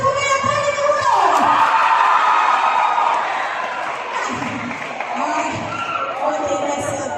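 Form 5 secondary school students at a school assembly break into loud applause and cheering, a dense crowd roar that is strongest at first and then eases slightly while continuing steadily.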